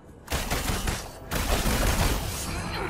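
Rapid bursts of gunfire in the Marvel Avengers video game, loud and dense, with a brief lull before a second sustained volley, no talking.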